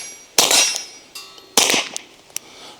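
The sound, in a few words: bullets hitting steel target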